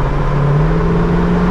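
A 1971 Camaro with a big block engine cruising at highway speed, a loud, steady, low engine drone with a slowly rising pitch under constant road rumble.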